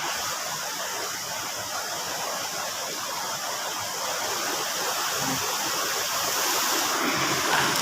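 River water rushes steadily beneath a steel bridge, a broad hissing flow close by that stays continuous and grows slightly louder toward the end, with no voices.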